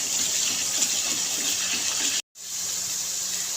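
Water poured from a glass into frying masala for an aloo besan curry. A steady, hissing gush runs unbroken, cuts out for a moment, then resumes, with no talking.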